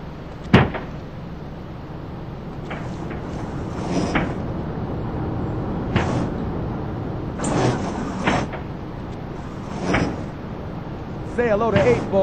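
A service door in Grand Theft Auto 3 opens and closes with several sharp clunks and sliding thuds spread through the scene, set against a low ambient hum, with voices likely present.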